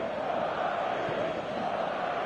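A packed stadium crowd on match day, a steady, loud, broad roar of many voices that holds evenly throughout with no breaks.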